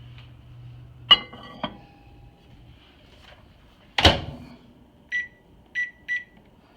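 A very dirty microwave oven hums low for a few seconds, then the hum stops. Its door clunks open and shut, followed by three short electronic beeps in a quiet room.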